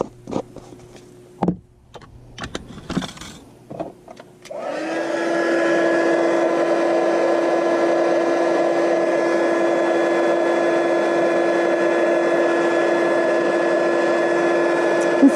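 A heat embossing tool melts clear embossing powder on cardstock, switching on after some handling clatter and then blowing a steady loud whirring hum with a fan-like drone that continues to the end.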